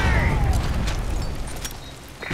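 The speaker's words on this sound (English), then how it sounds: "Predator missile inbound." Predator missile blast in Modern Warfare 3 Domination, a loud broad boom with rumbling low end that decays over about two seconds, with a brief whoosh trailing in.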